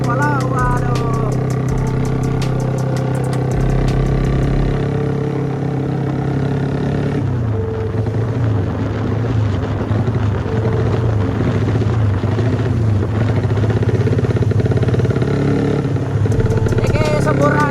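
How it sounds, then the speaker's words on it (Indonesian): A Honda CB motorcycle engine drones steadily while being ridden hard on a bumpy, pothole-filled road near Baturraden, a continuous close hum with rattling over the bumps. "Aku bawa motornya agak ugal-ugalan."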